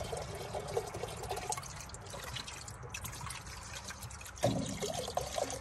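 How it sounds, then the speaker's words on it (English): Acetone and transmission fluid pour into the engine of a 1935 International C-30 truck in a soft, continuous trickle and splash, close but low in level, with a louder gush near the end. "That stuff's leaking out of there just about as quick as you pour it in."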